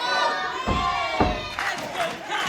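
Wrestling crowd at a mixed tag match cheering and shouting in a loud, dense roar, with a couple of thudding impacts underneath.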